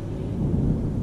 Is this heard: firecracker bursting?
no